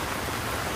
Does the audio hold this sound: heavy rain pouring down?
yes